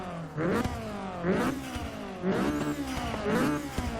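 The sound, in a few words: 2014 Honda Civic Si engine revving in video game Forza 6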